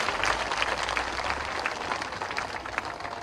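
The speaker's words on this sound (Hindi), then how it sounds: "तो एक बार ताली बजाइए मोदी जी के लिए जोर से।" Crowd applause at an election rally in Madhya Pradesh for a BJP candidate, sustained clapping from a large gathering, moderately loud and steady, with a low hum beneath.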